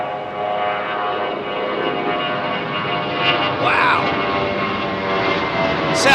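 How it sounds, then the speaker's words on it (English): An old Boeing 707 jet airliner at Heathrow passes with a loud, sustained engine roar and a whining tonal hum, holding steady and swelling slightly toward the end. "Sounds like an old 707."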